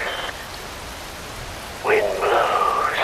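Steady rainfall from the video game Metal Gear Rising Revengeance, a constant hiss of rain throughout, with tonal game effects and a voice sounding over it in the latter half.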